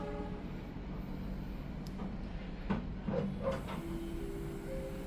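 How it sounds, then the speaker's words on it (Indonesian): Locomotive 206-1379 is shunted nearby, a low steady rumble with a few faint knocks and clanks rising midway, heard without any talking. "itu lokomotif dinasnya 206-1379 lagi dilangsir"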